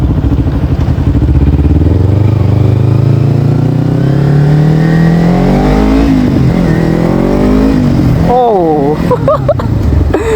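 A used Kawasaki Ninja motorcycle engine idles loud and close, then revs up in a rising sweep and is blipped in a few quick throttle bursts near the end.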